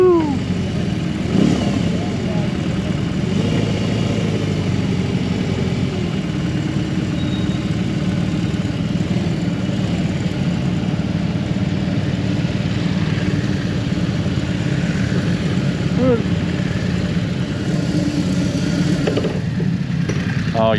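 A 2022 BMW R18B motorcycle engine runs close by in a steady, low idling rumble for the whole stretch, with slight shifts in tone and a voice talking faintly over it.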